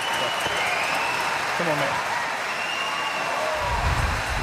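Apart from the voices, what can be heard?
curling crowd applauding a triple takeout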